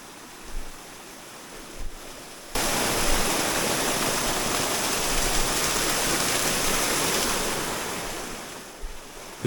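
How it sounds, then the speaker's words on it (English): A small forest stream in rural Vietnam after a storm, its banks lined with dense trees: a quiet pause, then a loud, steady broadband rush of flowing water that holds for several seconds before easing slightly near the end. "The cool air and the sound of flowing water are all I can hear."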